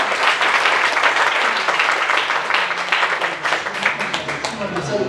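A church congregation claps enthusiastically during a pastors' seminar, with loud, sustained applause throughout and a voice speaking over it toward the end.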